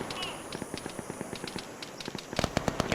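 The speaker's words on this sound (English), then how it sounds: "So now we got a BTR firing." A BTR armored vehicle fires in Arma 3 amid dense jungle, its rounds coming as rapid, regular sharp reports across the whole stretch and growing louder and denser toward the end.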